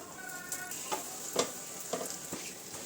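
Omelette batter sizzling in a heated pan, a quiet steady fry with a few soft crackles and light taps scattered through it.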